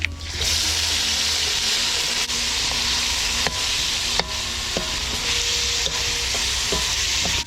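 Leftover Hang Lay curry is stir-fried in a hot pan with chili, giving a loud, steady sizzle broken by repeated scraping taps of the spatula, close up and without talking.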